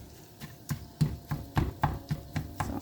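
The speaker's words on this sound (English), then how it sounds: "I'm going to mix it all together" A utensil mixing quinoa, egg and mushrooms in a bowl, a steady series of close, sharp taps and scrapes about every quarter second, with no talking.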